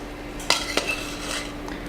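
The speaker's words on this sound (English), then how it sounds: "Now, Fiona, would you bring over one of the baking pans?" A metal baking pan is set down and handled in a kitchen during donut making, with two sharp clanks near the middle and faint rattling around them.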